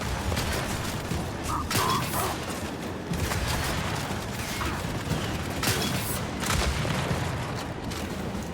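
Turret gunfire in Gears of War 5 clatters through dense, noisy battle sounds, a continuous rattling barrage with heavy mechanical rumble throughout.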